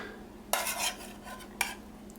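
Green beans go into a hot pan with two sharp clattering hits a second apart, followed by a soft sizzle and rustle in a quiet kitchen.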